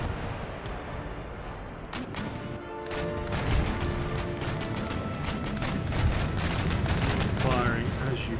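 Naval cannon fire with round shot in Empire Total War, as ships pummel an enemy fleet: a rolling barrage of heavy booms and crashes, repeated and overlapping throughout, with someone talking over the battle.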